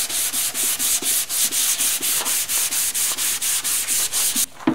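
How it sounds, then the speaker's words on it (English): A fiberglass motorcycle seat for a Honda Sabre cafe racer is sanded smooth over its glazing coat, with steady, rhythmic back-and-forth scraping strokes, close and fairly loud, that stop abruptly just before the end. "so now I need to sand that smooth, and then we can paint the seat white primer."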